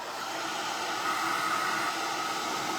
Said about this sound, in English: I'm gonna zap this with a blow dryer really quick.